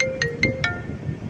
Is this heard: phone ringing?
yes